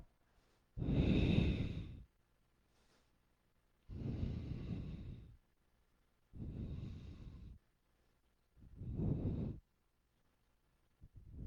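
Slow, deep breaths during a yoga exercise, four long, loud close-up exhalations spaced evenly about every two to three seconds, with quiet gaps between them and no speech.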